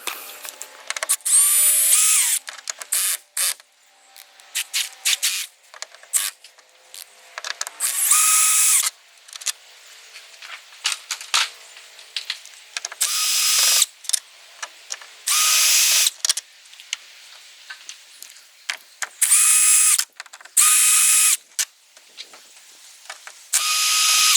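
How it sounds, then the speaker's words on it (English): A power drill backs out the screws holding the roof rack on a Toyota 80 Series Land Cruiser. Repeated short, loud whirring bursts alternate with ratcheting clicks and brief pauses, close by and with no talk. "So let's go ahead and unscrew those, and let's see how it goes."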